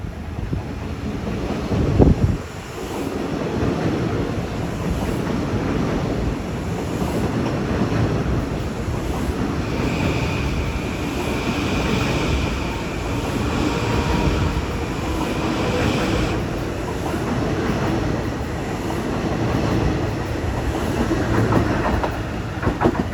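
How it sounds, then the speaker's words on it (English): LIRR M9 commuter trains rushing through Kew Gardens station at rush hour, a loud continuous roar with rhythmic clickety-clack of wheels over rail joints, heavy wind buffeting on the microphone and a brief thump early on. "Got a barrage of M9's coming."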